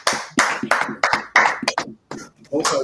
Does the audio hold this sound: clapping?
yes